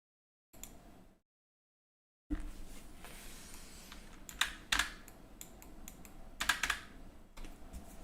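Typing on a computer keyboard during a git stash session at a coding workstation: brief sound, a pause of silence, then a continuous stretch of close key clicks with several louder, sharper taps.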